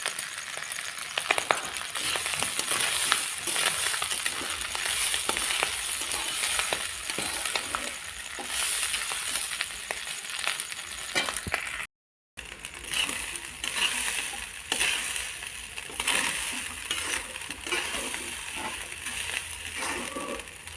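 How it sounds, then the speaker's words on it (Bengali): About 500 grams of rice fries in a pan for basanti pulao, giving a steady crackling sizzle with grainy rustles and clicks as it is stirred, close and continuous apart from one brief cut to silence. "চালটা আমার ভাজা ভাজা হয়ে আসছে।"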